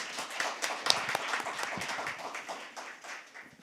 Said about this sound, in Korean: 김주현 원장님 박수로 맞이해 주시면 좋겠습니다.